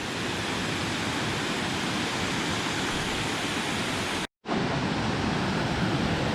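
Loud, constant roar of the bottom tier of a multi-tiered waterfall pouring nearby in Luang Prabang, broken by a brief dropout before the rushing water resumes.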